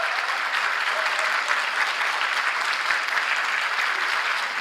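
A crowd at a public political lecture event in Busan claps steadily and loudly throughout, a dense unbroken wash of applause with no voices over it.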